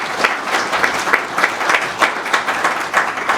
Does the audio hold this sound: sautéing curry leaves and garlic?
no